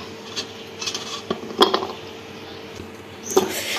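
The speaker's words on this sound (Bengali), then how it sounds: "এই যে ঢাকনা দিয়ে এটাকে 2 মিনিটের জন্য ঢেকে রাখবো।" A metal lid set onto a pan of hilsa fish curry cooked with mustard on a gas stove, giving a sharp clink near the middle and another a couple of seconds later, both close and clear over a low kitchen hum.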